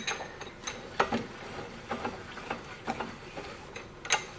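A steel screw is threaded into a repaired post vise, producing faint, irregular metallic clicks and ticks, close by in a quiet room with no talking.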